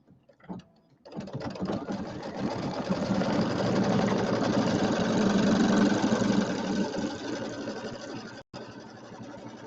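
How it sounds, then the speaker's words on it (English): An embroidery sewing machine stitches a tack-down line on fabric for a penguin mug rug, a steady fast mechanical whirr running for several seconds after a brief start, close and alone. "So this is going to be the tack down stitch for our fabric."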